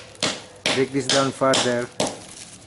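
Hammer blows breaking down coarse bonsai soil material such as pelletized clay: a few sharp, close strikes spaced irregularly, some followed by a brief ringing, tonal tail.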